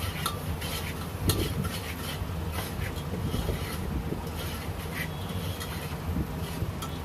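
A spoon stirs turmeric, garam masala and salt in a pan for a taro curry, with steady scraping and clinking against the metal over a faint sizzle.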